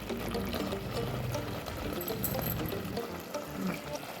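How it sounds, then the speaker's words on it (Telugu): Water is poured into a mixer jar holding blended tomato masala paste while goat head curry is being made, a close, continuous splashing pour that lasts a few seconds. "కాస్త వాటర్ వేస్తున్నాను."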